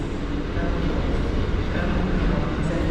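Train moving through Kraków Główny station, a steady loud rumble with low rolling rail noise throughout and no clear individual clacks.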